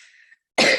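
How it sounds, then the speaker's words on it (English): A single sharp, loud cough bursts out right after a short quiet breath, close to the microphone and with no talking over it. "I've got a bit of a cough and recovering"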